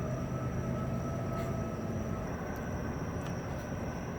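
A train rumbles past outdoors, a steady, loud low roar with faint metallic squeals, sustained throughout without talk.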